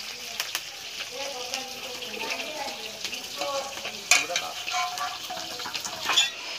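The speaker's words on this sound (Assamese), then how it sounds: "মাছ ইয়াত ভাজি থকা হৈছে" Fish frying in a pan in a home kitchen, a steady crackling sizzle with stirring and clinks of utensils throughout, moderately close, with faint voices in the background.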